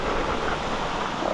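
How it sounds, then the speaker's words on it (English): A small brook in the Brecon Beacons runs along a mountain bike route, giving a steady broadband rush of flowing water, close and continuous, mixed with some wind noise. "A nice little brook."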